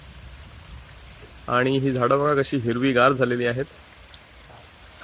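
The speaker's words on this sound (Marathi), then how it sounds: "येथे एक वाडीला पाणी देण्यासाठी एक पाईपलाईन आहे आणि ती फुटलेली आहे बघा." Water sprays from a burst irrigation pipeline in a leafy garden plot in Vasai, making a steady rain-like hiss throughout while someone talks over it in the middle.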